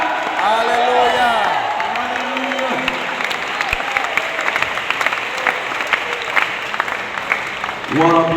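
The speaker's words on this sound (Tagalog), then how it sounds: "Come on, clap your hands, lift up your voice." Church congregation clapping their hands together in steady, loud applause under a worshipful setting, with voices singing and calling out over the clapping throughout.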